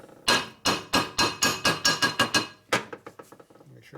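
A hammer peens a part on a 1972 Harley-Davidson Sportster Ironhead motor, giving a rapid series of about a dozen sharp, close metallic strikes that slow and soften toward the end.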